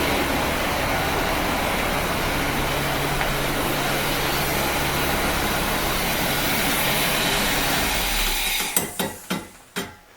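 A cooling fan runs on a 1975 Corvette C3 engine with a fuel leak: a loud, steady whooshing roar that holds for about eight seconds, then cuts off abruptly, followed by a few sharp clanks.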